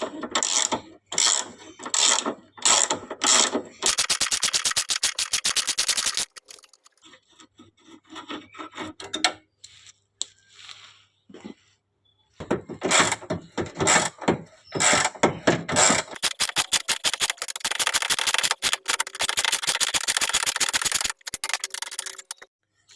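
A wrench ratchets repeatedly while loosening bolts on a car radiator and fan assembly, bursts of rapid clicking and metallic rubbing close by, with a few quiet pauses between runs.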